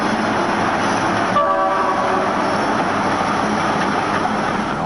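Alco RS3 diesel locomotive No. 199 running in the Train Sim World 4 simulation on a CSX Maryland mountain line, a steady loud engine rumble with a brief horn-like tone about a second in, continuous throughout.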